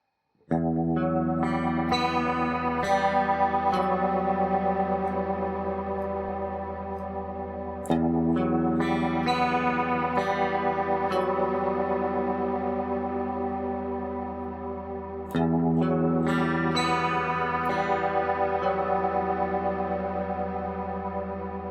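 Slow, atmospheric guitar chord progression played through an effects unit with distortion, chorus and echo, three long sustained phrases ringing out loud and alone with no talking.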